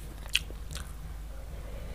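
A crisp bite into crunchy fried salted fish coated in a little wheat flour, one sharp close crunch followed by soft chewing, faint against a low steady background hum.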